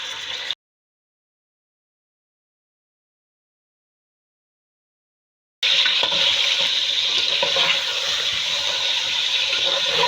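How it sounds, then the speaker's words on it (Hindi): Chicken pieces frying in hot oil in a pan for shahi korma, a loud, steady crackling sizzle that cuts off briefly and then returns strongly. "पहले चिकन को फ्राई करूँगी मैं, फिर उसके बाद मैं मसाले डालूँगी।"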